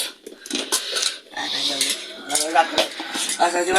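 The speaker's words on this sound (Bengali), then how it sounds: "দেখো এবার প্লেট আনবক্সিং হচ্ছে" Plates and pieces from a six-piece kitchen set being unpacked, with repeated close clinks and rattles of dishes and cutlery against each other, light knocks and packaging rustle, and a voice talking at times.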